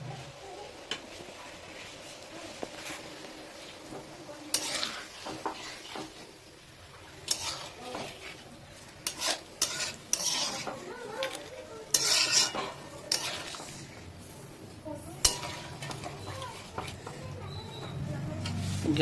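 Fried fish head and fried potatoes being stirred into a pot of Gobindo Bhog rice and water on a high flame: repeated scraping and clinking of a ladle against the pot with soft sizzling, irregular bursts, with a little talk between.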